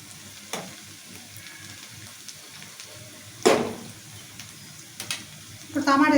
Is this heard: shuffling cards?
no